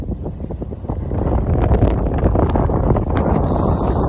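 Strong coastal wind from a horizontal tornado at Camp Ellis, Maine, roaring continuously into the microphone with heavy buffeting, loud and close throughout, with no voices.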